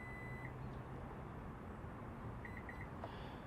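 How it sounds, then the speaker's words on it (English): A 2023 Honda CR-V EX-L power tailgate sounds short, faint electronic beeps while its height is being set, one tone early and then a quick series of three or four beeps, over a steady low background hum. "I'm going to hold the button down and listen for the beeps."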